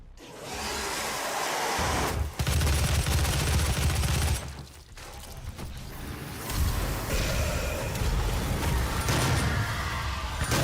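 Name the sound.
rocket fire in DOOM video game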